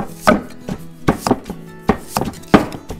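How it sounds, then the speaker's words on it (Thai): A knife cuts salad stem into thin sheets on a cutting board for a seafood som tam, giving four crisp, evenly spaced chops, close and distinct with no talking. "เราหั่นเป็นแผ่นก่อน"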